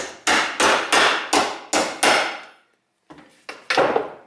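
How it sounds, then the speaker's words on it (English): A hammer strikes the broken rear trunk hinge of a BMW touring car in a quick series of six sharp metallic blows, then a short pause and three more hits, loud and close. "I hammer that again"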